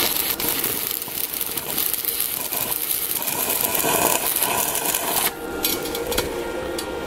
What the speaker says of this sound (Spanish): Y empezamos a soldar.